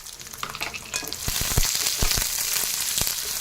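Dry red chillies and garlic fry in oil in a kadai for a Telangana tomato pickle, a steady close sizzle with a few sharp stirring scrapes and clinks along the way.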